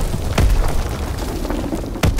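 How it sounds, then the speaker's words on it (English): A Fritz X guided bomb detonates in Call of Duty WWII multiplayer, two deep booming blasts about a second and a half apart over steady battlefield noise. "Dropping Fritz X bomb."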